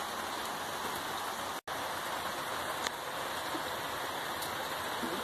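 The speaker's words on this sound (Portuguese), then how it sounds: "Olha só pessoal, olha a chuva aí." Steady rain falls at a house during an outdoor pamonha cooking day, a constant even hiss with scattered close drips and one brief dropout, with no voices.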